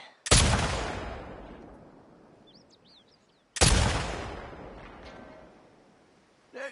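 Two loud, sharp rifle shots in The Last of Us Part II, fired a few seconds apart at a sign, each with a long echoing decay, birds chirping faintly between them.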